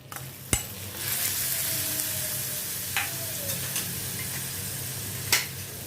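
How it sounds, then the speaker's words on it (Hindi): Finely chopped onion sautéing in a pan for bhindi masala, a steady close sizzle with occasional sharp scrapes and taps of a spoon stirring against the pan. "इसको अभी मैं थोड़ा सौते करती हूँ।"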